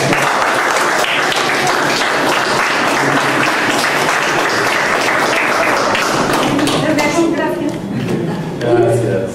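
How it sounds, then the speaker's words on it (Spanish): Sustained applause from a large audience, dense and steady throughout, with a few voices rising near the end. "Venga ese voto de aplauso."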